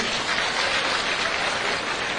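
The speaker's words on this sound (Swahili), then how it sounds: "Haya, tuwapigieni makofi." Crowd applause for county assembly members and aspirants at an outdoor gathering in Kakamega, a dense, even burst of many hands clapping close and loud for a couple of seconds.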